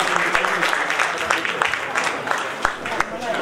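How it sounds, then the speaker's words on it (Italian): An audience at an autumn food festival in Lauria applauds to welcome cheese makers, pastry makers and millers, a continuous crowd clapping with sharper individual claps standing out and a voice talking over it. "Li accogliamo con un bel applauso."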